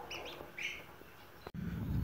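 Newly hatched ducklings chirp in a few quick, high peeps close by, followed by a soft clunk and rustling.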